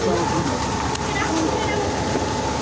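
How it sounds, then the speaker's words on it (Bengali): A passing train gives a loud, steady rumble with continuous rolling clatter across the whole stretch, close by and dominating, with no clear voices above it. "এই যে ট্রেন দেখেছো তোমরা"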